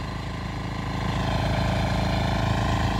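Kirloskar power weeder engine running steadily while tilling a field, a loud continuous mid-pitched engine drone with a constant chugging rhythm heard alone, close by.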